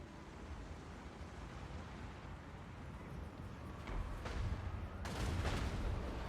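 Battle din from Total War: Warhammer 3 as dwarf artillery fires in a land battle: a dense, rumbling wash of distant booms and gunfire that swells louder toward the end.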